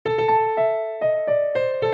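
A short burst of music from the video game Live A Live, with punchy, clipped synth chords in a bouncy rhythm over a sustained melodic tone, loud and with no voices.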